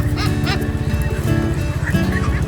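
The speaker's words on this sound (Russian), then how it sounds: "Это не лебеди, кстати. Это гуси, да." Several geese honk loudly and repeatedly up close, overlapping nasal calls over a busy outdoor background in Ninh Binh, Vietnam.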